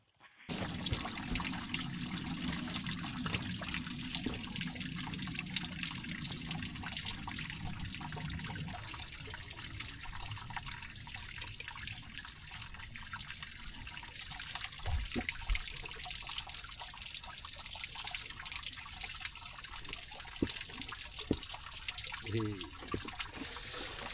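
Stream water flowing at Jaggers Clough in the Peak District, a steady broadband rush and trickle heard up close while water is collected, with a lower gurgle early on and occasional splashes and handling knocks.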